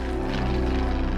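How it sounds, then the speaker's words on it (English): A propeller plane flying low overhead, a loud steady droning engine with a strong pulsing low hum and buzzing harmonics, sustained and close throughout. "That was the same plane, and as they flew over me, they dropped a bag of stuff."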